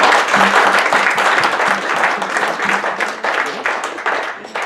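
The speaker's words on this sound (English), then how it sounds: "let's just give him a big round of applause" A sailing club audience in Toronto gives a loud, full round of applause for a guest speaker, many hands clapping in a thick steady roar that eases slightly toward the end.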